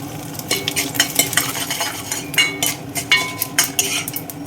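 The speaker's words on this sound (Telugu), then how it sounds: "ఆవాలు చిట్టుపట్లాడుతున్నాయి." Rapid crackling and popping of mustard seeds spitting in hot oil, irregular bursts over a sizzle, with occasional metal spoon scrapes against a pan.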